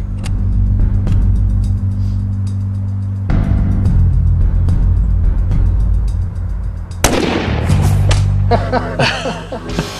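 A rifle shot fired from the prone position at a 100-yard target cracks sharply once, loud and close, ringing out after a steady low engine-like rumble and followed by scattered clatter.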